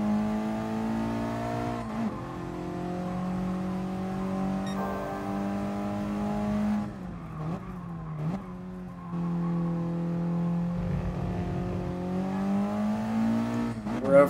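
A 1996 Mitsubishi Lancer Evolution 4 in the GT Sport racing game holds a steady engine drone through a corner at light throttle, dipping briefly mid-lap before the revs climb again and end in a sharp spike.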